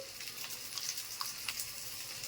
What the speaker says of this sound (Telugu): ఇప్పుడు కొద్దిగా ఏడెక్కిన తర్వాత మనమైతే ఒక పావు టీ స్పూను ఆవాలు వేసుకోవాలండి